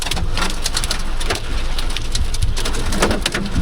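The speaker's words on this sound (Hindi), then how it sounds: "थोड़ी सी बारिश कम हुई है।" Steady rain falling in a Himachal Pradesh village, a dense continuous patter with scattered sharper drops and a faint low rumble beneath, close and fairly loud throughout, with no voices.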